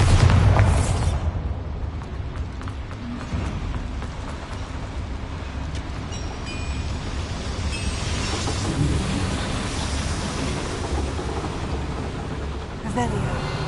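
A Bombarda blasting spell goes off in the Hogwarts Legacy video game, a loud low boom that rolls into sustained rumbling, with game effects and a voice layered over the noise throughout.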